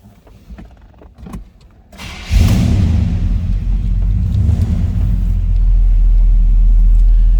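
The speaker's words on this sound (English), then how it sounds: "Let's go ahead and fire this up" A 1980 Chevrolet K10 Silverado 4x4 cranks briefly after a few clicks, then its engine catches and settles into a loud, deep, steady idle rumble heard close up.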